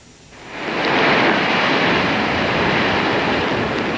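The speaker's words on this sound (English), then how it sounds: "the ocean was already pounding the boardwalk and the beaches in Ventnor" Storm-driven ocean surf pounds the boardwalk and beaches in Ventnor, near Atlantic City, a loud broad roar that swells in after a brief lull and holds steady, with no voices.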